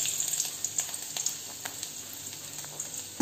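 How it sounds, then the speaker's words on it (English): Garlic and ginger fry in two tablespoons of hot oil in a kadai, giving a steady, soft sizzle with faint crackles and a few small spoon clicks, with no voices. "I have just heated the kadai with 2 tablespoon of oil. I am adding the garlic."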